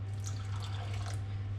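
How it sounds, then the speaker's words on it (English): Warm water is poured slowly into a keto white bread mixture of psyllium, oil and apple cider vinegar, a soft, steady trickle over a constant low electrical hum. "And then we're going to add the water, but we'll add that slowly as we go."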